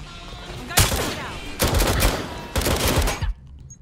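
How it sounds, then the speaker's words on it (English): Gunfire in the Watch Dogs: Legion video game: three loud, close bursts of shots, each about half a second to a second long, with short gaps between them and a quiet tail at the end. "Gunfire!"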